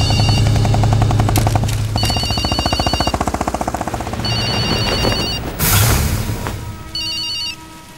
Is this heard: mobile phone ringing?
yes